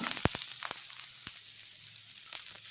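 Cinnamon, chilli and curry leaves sizzle in hot oil in a pan, a close steady crackle with a few sharp clicks from a stirring spoon early on, no talking.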